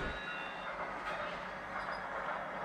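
A toy train bought at the Kadıköy flea market in Istanbul runs with a steady whirring rumble and a continuous high electronic beeping tone, close by, amid busy market background noise.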